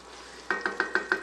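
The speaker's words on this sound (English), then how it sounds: "we'll give these a stir" Chopped garlic being stirred in a pan for penne alla vodka: a faint background sizzle, then five quick, evenly spaced scraping clinks of a utensil against the pan, close by with no talk.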